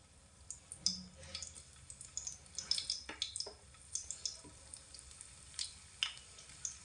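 Baby corn pieces frying in hot ghee, a soft steady sizzle with scattered crackles and pops, faint and close, with no talking.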